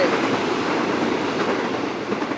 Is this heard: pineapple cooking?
no